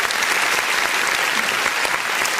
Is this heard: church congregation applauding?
yes